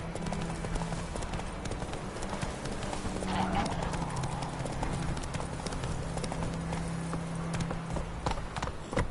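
Horse hooves clip-clopping in the video game The Witcher 3, a steady rhythmic trot with music and a voice heard faintly beneath.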